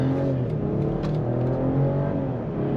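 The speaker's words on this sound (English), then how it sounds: "And then we just give it a little bit of gas." A 2024 BMW X5 xDrive40i with an eight-speed automatic pulling away from a stop, a steady, fairly loud engine drone and rising hum heard from inside the cabin, with no talking.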